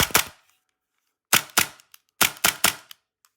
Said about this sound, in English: it's really loud as well for such a small pistol